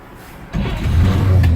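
A 1950 Chevrolet 3100 pickup engine cranks and catches, then settles into a loud, steady, close-up idle with a deep rumble.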